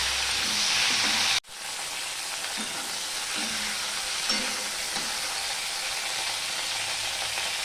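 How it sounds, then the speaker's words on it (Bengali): Broccoli fries in a pan with a steady, close, bright sizzling hiss. A sharp knock cuts in near the start, then the frying carries on evenly with faint stirring. "এরপরে আমি ব্রোকলিগুলো ভেজে নেব"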